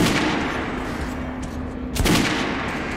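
Gunfire from a firearm on a shooting range in the video game Metro Last Light Redux, a couple of sharp shots over a steady low hum, close and fairly loud, no talk.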